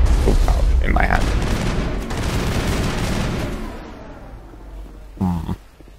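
The Spectre weapon in the video game Mass Effect fires dense, rapid bursts of gunfire that fade out, followed by a brief voice near the end.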